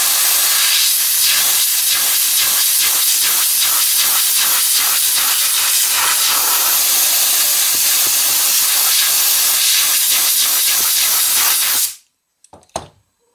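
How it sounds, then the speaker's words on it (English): Compressed air at about 80 to 90 psi blasting a sanding sponge clean: a loud, continuous hiss pulsing in quick rhythmic bursts, then cutting off abruptly near the end, followed by a few small clicks. "the other half we're going to clean with about 80 or 90 pounds of air pressure"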